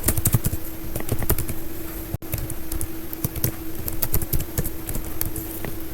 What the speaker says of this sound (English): So I have written my email address and I press the enter